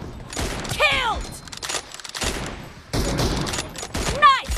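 Gunfire in a multiplayer shooting video game plays as several sharp bursts spread across the clip, with voice-like rising and falling sounds mixed in.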